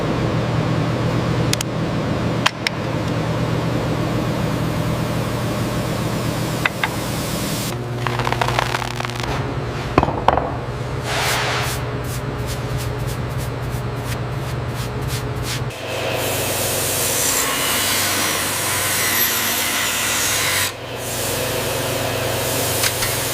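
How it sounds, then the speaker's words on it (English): A sandblaster sprays aluminum oxide grit at 90 psi onto a metal church statue in a factory, a loud continuous hiss and rush of air with shifting texture and a few knocks as the nozzle moves. "Aluminum oxide grit at 90 pounds per square inch. It strips decades of oxidation in seconds."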